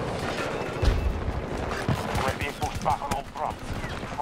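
M5 assault rifle fire in a first-person shooter game, a series of rapid gunshot bursts mixed with game effects, with someone talking over the shooting.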